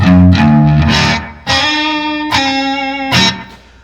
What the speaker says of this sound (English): I'm a Strat running into a couple things, going into my Super Reverb.